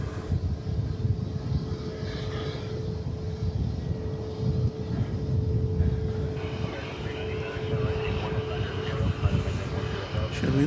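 An airliner in oneworld livery at DFW Airport gives a steady low engine rumble with a faint sustained tone. It carries on continuously, moderately distant, while voices talk over it.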